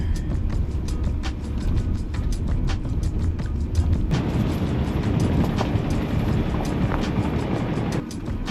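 A Mercedes drives in off-road mode on a steep off-road test track, giving a steady low rumble of engine and rolling noise throughout, with scattered sharp clicks and knocks over the top.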